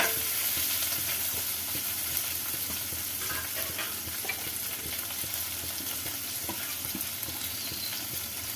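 Chopped small onions (shallots) frying in hot oil with garlic and green chillies, a steady close sizzle with scraping stir sounds throughout, no talk.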